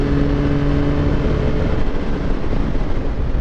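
A Yamaha MT-09 motorcycle pulls in sixth gear at around 5000 rpm, a loud, close engine drone with a rising tone early that gives way to rougher wind and road roar, with no talking.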